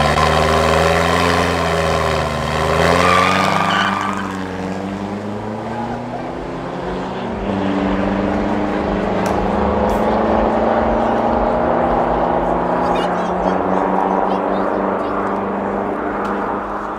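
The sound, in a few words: Volkswagen Amarok street racing, engines revving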